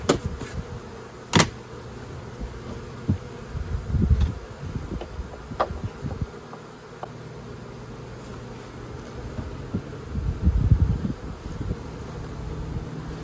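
Honeybees hum around spring beehives on a cool March day, a steady soft drone of many wings with a few closer buzzes and light handling knocks.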